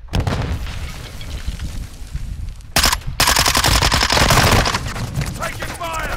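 Loud, continuous gunfire in a shooter video game, with rapid automatic bursts and booming blasts that crowd the clip, briefly cutting out near the middle before resuming at full intensity.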